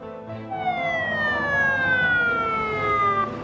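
An ambulance siren wails close and loud in an animated setting, one long sustained tone sliding slowly downward over a low engine rumble.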